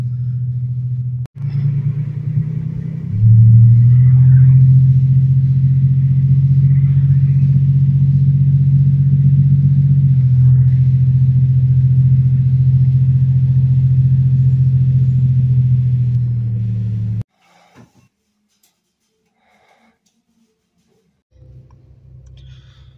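A 1993 Chevy Lumina's 3.1 V6 General Motors engine with a newly fixed exhaust, running close up as a loud, steady, deep rumble for about fifteen seconds, then cutting out before a low idle returns.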